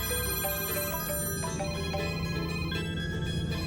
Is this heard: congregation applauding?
no